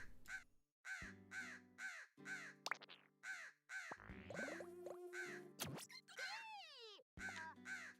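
Repeated loud, close crow caws from a video game ring out in a steady series of harsh calls with short gaps, some sliding in pitch, alone without talk.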